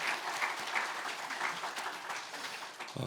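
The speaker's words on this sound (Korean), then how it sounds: "다시 한번 감사의 박수로 표현하겠습니다" A church congregation applauds in thanks, a soft, steady wash of many hands clapping at a moderate distance, fading briefly near the end.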